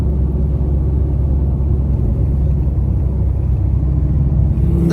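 A Chevy II drag car's engine rumbles low and steady on the road at Sick Week 2024, a constant heavy drone without pauses or revs standing out.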